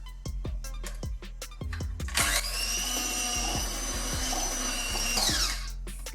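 Cake batter for an oven-free coffee cake is whipped by an electric beater, a steady whirring motor drone with repeated clicks and taps against the bowl, loud and close.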